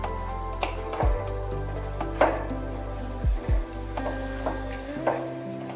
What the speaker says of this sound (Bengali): এবার লঙ্কাটাকে ভালোভাবে মিশিয়ে নিচ্ছি।